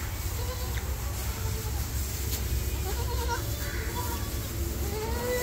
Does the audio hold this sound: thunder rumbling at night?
no